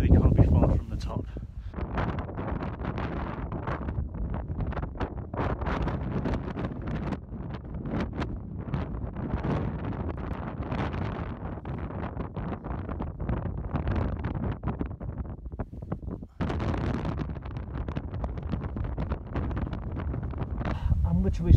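Strong gusting wind near the summit of a volcano, around sixty miles an hour, buffets the microphone with a dense, roaring rumble that holds steady throughout, with a brief dip partway through.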